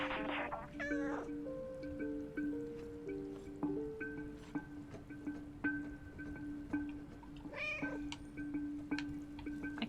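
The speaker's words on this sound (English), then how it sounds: "I kind of forgot about the meow button for a little bit there." A cat in the video game Stray meows several times, the clearest cry near the start and another around the middle, over a low steady game background hum.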